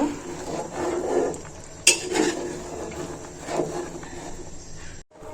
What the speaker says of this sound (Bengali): আমি বেজে রাখা ডিমগুলো দিয়ে দিচ্ছি এর মধ্যে একটু নেড়ে ছেড়ে দিব